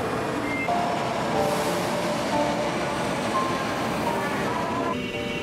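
A crowded Midosuji Line subway train of Kita-Osaka Kyuko rolling stock pulls out on an extra late-evening service, giving a steady, loud rolling roar with faint tonal whines throughout.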